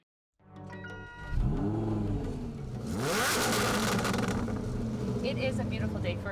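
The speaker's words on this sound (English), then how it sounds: "Doing my absolute favorite thing is hauling around in my Lamborghini." A Lamborghini supercar cruising on a road, its engine note rising and sweeping in pitch as it accelerates, steady and fairly close, with a voice speaking over the drive.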